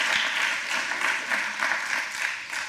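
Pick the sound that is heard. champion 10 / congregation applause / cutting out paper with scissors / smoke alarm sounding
congregation applause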